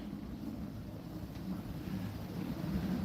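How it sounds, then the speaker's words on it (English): Low, rumbling wind from Cyclone Alfred buffets the microphone in steady gusts near 40 that swell slightly louder toward the end, with a faint background hum. "there's a few really good gusts coming through now"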